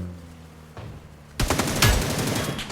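Rapid automatic fire from a Beryl M762 rifle in the mobile shooter New State Mobile, a loud close burst of dense overlapping shots starting after a quieter lead-in and continuing to the end.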